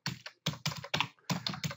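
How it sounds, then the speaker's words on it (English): Rapid typing on a computer keyboard comes in clustered bursts of close, crisp key clicks with short pauses between them. "I'm not going to make you suffer through watching my pathetic typing throughout all these things"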